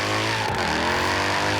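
A Jaguar XE-S fitted with a Mercedes engine revs hard in Forza Horizon 3, a loud, continuous engine roar whose pitch dips briefly and then climbs steadily again, with no voices over it.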